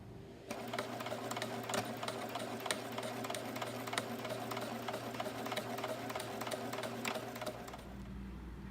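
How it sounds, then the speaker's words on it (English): A sewing machine runs steadily for several seconds, its rapid mechanical clatter ticking evenly before stopping near the end. "Our next step is to head to the sewing machine."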